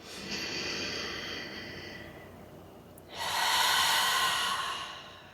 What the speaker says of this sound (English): So I encourage you to take some deep breaths.